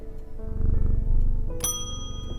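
A shop counter bell in the video game Strange Antiquities rings once with a bright metallic ding, its tone ringing out briefly over steady low background game music.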